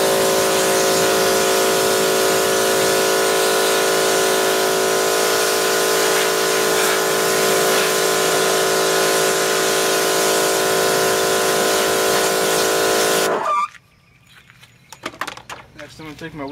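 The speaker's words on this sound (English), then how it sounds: "First thing I'm gonna do, I'm gonna rinse on the wheel." Pressurized water spray rinsing a car wheel, a loud steady hiss with a constant tonal whine that cuts off abruptly, followed by a few faint knocks and splashes.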